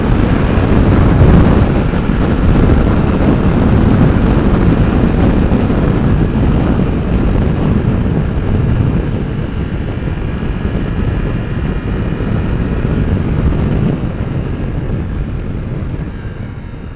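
Loud, steady mechanical roar of a 2021 Ducati Multistrada V4S motorcycle engine being revved, broadband and close, holding strong before easing slightly toward the end, with no talk.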